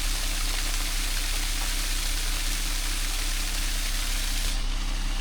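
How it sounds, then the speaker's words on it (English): Water flows steadily at a frozen winter waterfall, a loud, unbroken broadband rush heard alone through a camera microphone. "I'm hoping you can hear that water"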